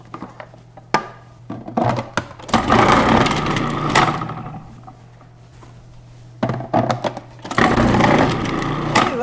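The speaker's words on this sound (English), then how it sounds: "I'm going to dial it to 3 millimeters to cut these potatoes" A Breville food processor set to 3 millimetres slices potatoes, with loud whirring bursts of motor and blade that start and stop, broken by clunks and quieter gaps.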